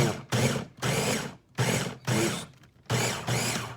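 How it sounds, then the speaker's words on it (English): A Ninja blender pulses salsa with olive oil in four short bursts, each a loud, near whirring grind followed by a brief pause, with the motor spinning up and cutting off again. "So we're gonna give it a blend, see what happens. Got the old trusty Ninja set up"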